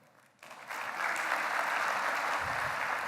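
Audience applause at the MIT.nano grand opening, beginning with a few claps and quickly swelling into full, sustained clapping from a sizable crowd in a hall.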